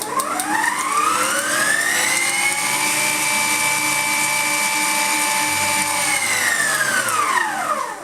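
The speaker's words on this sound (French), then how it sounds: "il a un moteur de 1200 watts, il possède 6 vitesses de fonctionnement" A Klarstein Bella Rossa TK2 1200-watt kitchen robot motor whirs loudly, rising in pitch as it spins up, holding a steady high whine for several seconds, then winding down at the end.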